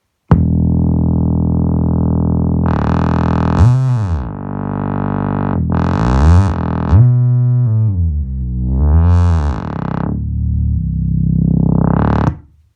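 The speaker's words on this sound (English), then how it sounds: "I'm going to try one more very, very fat bass." A thick, heavy synth bass plays sustained notes through a Peavey KBA-60 keyboard amplifier, loud and clean, with pitch bends and swelling upper harmonics between held tones.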